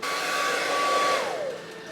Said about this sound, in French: Qu'est-ce que ça va donner avec le sèche-cheveux? C'est un 2000 watts.